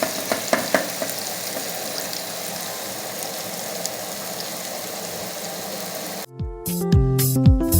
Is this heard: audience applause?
no